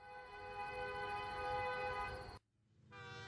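A train locomotive hauling coupled wagons rumbles with a sustained, loud horn blast, which cuts off abruptly and then resumes briefly over the rolling rail noise.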